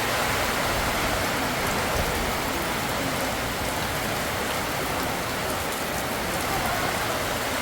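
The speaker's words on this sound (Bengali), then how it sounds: "বৃষ্টি আসবে তো বৃষ্টি চলে এসেছে" Loud, constant rush of rain falling on surfaces at night, a dense unbroken patter with no voices.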